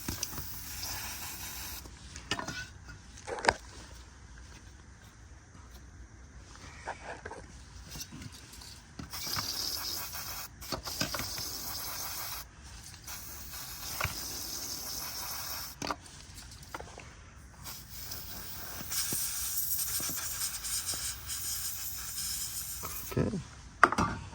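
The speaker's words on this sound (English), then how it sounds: "There's a brake cleaner. Just clean up." Brake cleaner sprayed onto the engine of a Mercedes-Benz GL450 during a camshaft position sensor repair: several separate bursts of hissing spray mixed with faint clicks and rattles, with quiet pauses between them.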